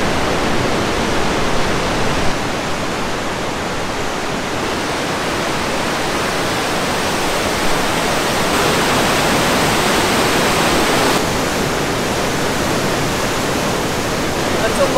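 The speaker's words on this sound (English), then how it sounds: "The sound of the water in this canyon is almost deafening" Water rushes loud and unbroken through a canyon at the Othello Tunnels near Hope, BC, a dense, deafening roar that holds steady throughout.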